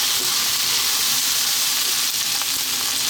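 Chestnut mushrooms hit a hot pan in a lamb curry and sizzle with a loud, steady frying hiss, close and continuous with no talk.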